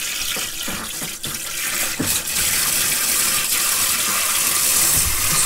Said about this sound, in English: Strong shower.